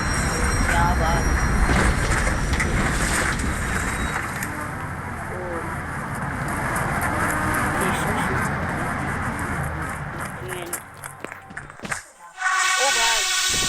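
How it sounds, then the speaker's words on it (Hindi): A train rumbles and clatters into a railway station in the video game Indian Bike Driving 3D, a loud steady roar that fades near the end, followed by brief bright tones. "अभी रेलगाड़ी आ गई है"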